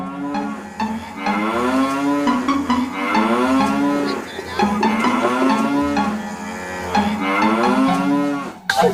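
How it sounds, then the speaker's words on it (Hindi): A buffalo moos loudly and repeatedly in long, drawn-out, wavering calls that fill the whole stretch, heard up close with no talk over it. "भैंस है भाई ये।"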